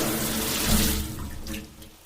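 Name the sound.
shower running water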